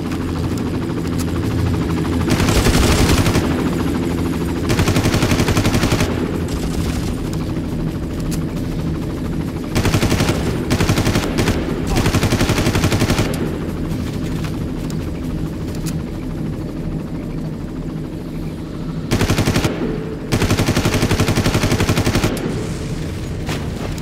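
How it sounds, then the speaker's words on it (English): Loud bursts of small-arms fire aimed at a helicopter in the video game Far Cry, repeated volleys over a constant droning rotor and engine bed, with booming impacts between bursts. "So apparently I just blew up a helicopter with small arms."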